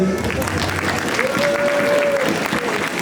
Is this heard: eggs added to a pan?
no